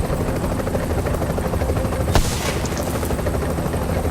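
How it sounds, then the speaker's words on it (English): A helicopter in the video game The Division, engine warmed up and waiting, thrums in a steady loud rotor chop throughout, with one sharp bang and a brief burst of impacts in the middle. "chopper's nice and warm. You got 10 seconds to get on this bird"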